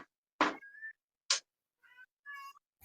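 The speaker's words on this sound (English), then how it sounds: "Sorry, my cat's meowing." A house cat meows indoors, several short, clear meows with pauses between them, close and fairly loud against an otherwise quiet room, with no talking.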